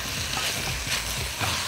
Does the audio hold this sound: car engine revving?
no